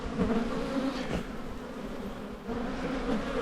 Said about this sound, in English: Lots of bees on me.